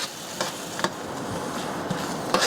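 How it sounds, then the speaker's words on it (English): Apple butter sauce stirred in a pan, a steady soft sizzle with a few scraping strokes of the spoon against the pan, close and alone without talk. "Stir it all together."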